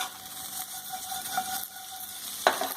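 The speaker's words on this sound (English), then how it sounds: "So now again, we can just mix all the masalas." Masala spices for aloo chaat being stirred and mixed in a bowl, a soft continuous scraping swish with a single sharper clink near the end.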